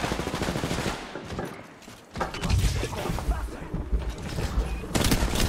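Kraber sniper rifle fire in Apex Legends Mobile, a close, loud run of sharp shots and impacts amid busy game combat noise, with a quiet gap midway before the shooting resumes.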